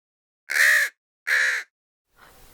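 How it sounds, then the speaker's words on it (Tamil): A crow perched in a tree gives two loud, close caws in quick succession as a story sound effect, followed by a much fainter, rougher third call. "அருகில் உள்ள மரத்தில் அமர்ந்திருந்த காகம் ஒன்று கோழி குஞ்சை உற்று"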